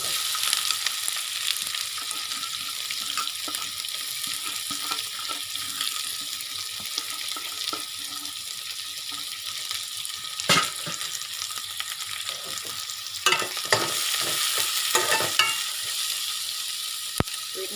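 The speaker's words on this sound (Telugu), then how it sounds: "ఇప్పుడు ఆయిల్ హీట్ అయిన తర్వాత ఉల్లిపాయ మూడు పచ్చిమిర్చి కొద్దిగా కరివేపాకు వేసుకోవాలి" Onion, green chillies and curry leaves frying in hot oil for aloo kurma, a steady soft sizzle throughout with occasional sharp stirring clinks, no talk.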